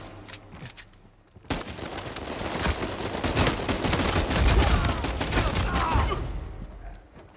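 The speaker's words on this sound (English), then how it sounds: "Can my gun just shoot faster, please?" Dense, sustained volleys of gunfire from Uncharted 4 multiplayer fill several seconds, loud and overlapping with crackling bursts that swell and then fade.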